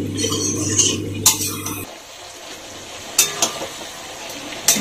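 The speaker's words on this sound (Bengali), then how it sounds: "এখন এটাকে নেড়ে একটু ঢাকা দিয়ে রাখবো।" Spoon clanks and scrapes against a pot while stirring Bengali bean curry (shim chorchori), a few sharp metallic knocks over a soft background sizzle, no talking.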